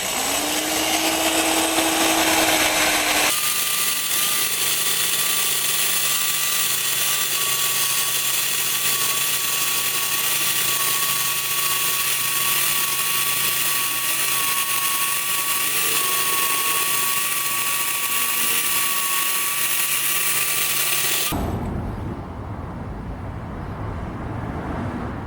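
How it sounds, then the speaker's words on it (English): A 3M eraser wheel on a power tool strips leftover emblem adhesive from a car's paint, giving a loud, steady high-pitched whine. A brief lower motor hum comes first, and the whine cuts off abruptly near the end. "I'm now going to use my 3M eraser tool, cut to the chase, and really get this job done"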